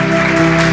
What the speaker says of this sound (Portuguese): Louve ao Senhor com as suas palmas.